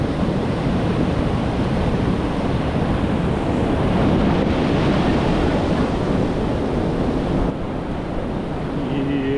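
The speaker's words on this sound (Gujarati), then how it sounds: "જબરજસ્ત કોર્સમાં પાણી પડી રહ્યું" Loud, continuous rushing of falling water, a dense roaring wash of noise that stays steady throughout with no speech.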